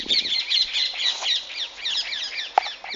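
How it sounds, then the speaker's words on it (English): Parrots call from date palm trees in a busy, overlapping stream of shrill chirps and squawks, moderately close, with one sharper call standing out near the end. "These are parrots, by the way."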